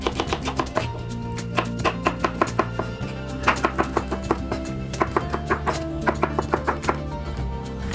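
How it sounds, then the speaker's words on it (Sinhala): A knife chops shallots and garlic finely on a board, giving a fast, steady run of sharp, close taps, several per second, played alone with no speech. "බීලුන් ටිකත් මෙන්න මේ වගේ පොඩි කපලා සුදුරුන් ටිකත් පොඩියටම කපා ගන්නවා"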